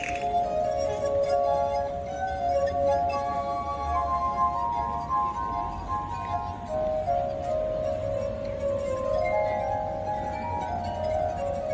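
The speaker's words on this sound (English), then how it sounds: "This is the sound of water glasses." Tuned water glasses ring with sustained, pure singing tones that glide and shift pitch slowly, overlapping like a soft glassy melody.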